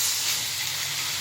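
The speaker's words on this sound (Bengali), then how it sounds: "একটু জল দিচ্ছি, মশলা যাতে মাখা মাখা হয়।" A pan of frying spices with cumin and chilli powder gives a loud, steady, bright hiss and sizzle as water is poured in, continuing unbroken for over a second.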